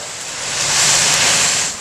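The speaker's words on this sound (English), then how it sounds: "the surf, when it comes in, it collects in the blowhole, and it's entrained, and it splashes up" Surf surging up through a lava-tube blowhole on a Galapagos shoreline, a steady broadband rush of spray that swells and fades over about two seconds, loud and close with no voices.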